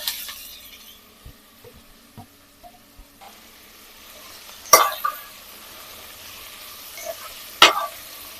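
Vegetables get stirred into a tomato masala frying in a pan for a village-style chicken vellai kuruma, making a soft sizzle with scattered scrapes and two sharp clanks of a utensil against the pan.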